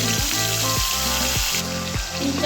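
Tomato puree hitting hot oil spiced with cinnamon, cloves and green cardamom, setting off a dense, loud sizzle with a few faint repeated low thumps underneath.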